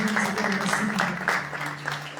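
Church congregation clapping in praise during a worship service, steady mixed applause over sustained music tones with voices mingled in.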